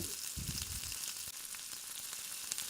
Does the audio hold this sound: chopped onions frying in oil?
yes